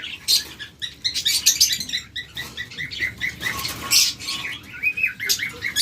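A breeding pair of lovebirds or budgerigars, the hen carrying eggs, chirps and tweets in rapid, overlapping bursts close by, with light wing flutters and scratchy cage patter beneath the calls.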